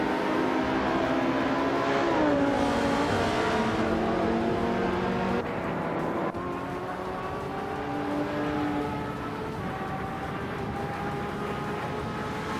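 Racing cars in a video game race, with engine tones climbing and shifting as cars accelerate and overtake, and a steady loud drone of several engines with no talking.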